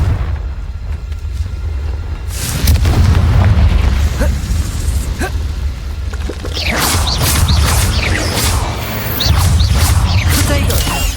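Explosive Confringo spell blasts from the Hogwarts Legacy video game, a loud booming burst followed by sustained rumbling and crackling debris, with further sharp pops later.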